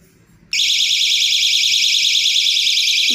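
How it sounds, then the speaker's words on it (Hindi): Built-in speaker in a homemade toy gun gives a loud, continuous warbling electronic alarm tone, starting abruptly when the button is pressed and cutting off near the end. "हमने एक यहाँ पे बटन लगाया है जिसमें स्पीकर है, वो बजता है बजाने पर।"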